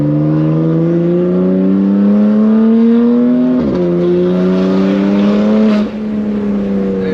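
A BMW F80 M3's S55 engine sings through a Valvetronic Designs equal-length exhaust, a loud, smooth, rising tone that briefly dips mid-pull before climbing again, close and continuous with no voices.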